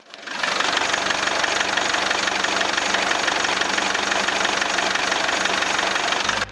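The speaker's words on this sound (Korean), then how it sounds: "네 이렇게 엔진 소리까지 들려드렸습니다. 정말 규칙적인 엔진 음을 내고 있고요." A SsangYong Korando Turismo van engine idles steadily and close up, a constant rumbling, ticking drone with no voices, cutting off abruptly at the end.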